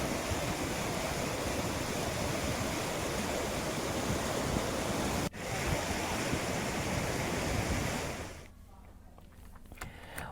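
The Kheer Ganga river in Uttarkashi, flooded after a cloudburst, rushes in a loud, unbroken roar of churning water, with a brief dip near the middle and a quieter, thinner stretch at the end.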